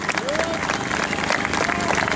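Audience applause and cheering fill an outdoor arena at a steam rally, a dense steady wash of clapping with crowd noise lasting throughout, loud and close.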